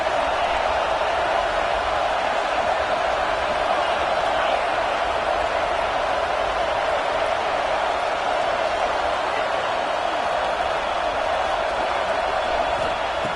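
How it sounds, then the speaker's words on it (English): A home crowd at an American football game roars in a continuous, dense wash of cheering and noise, steady and loud throughout with no clear breaks. "this home crowd is fired up and ready to make a difference today."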